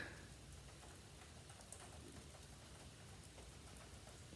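Rain falls steadily outside a garage in North Carolina, making a faint, even hiss with scattered drips and no voices.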